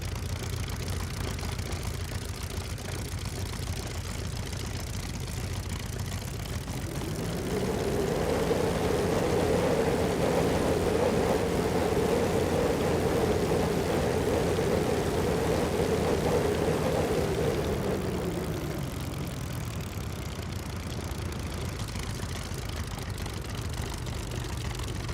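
A Grumman Hellcat's piston aircraft engine in Microsoft Flight Simulator 2020 at Duxford swells from a quiet idle into a loud, steady, throaty drone lasting about ten seconds, then drops back to a low idle. No one speaks.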